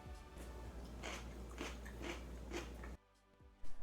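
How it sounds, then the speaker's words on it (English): Several crisp crunching bites and chews of a pickled pepper sound close up in a quick, uneven series, followed by a brief quiet pause and a faint rustle. "I will try one to show you how crunchy they are."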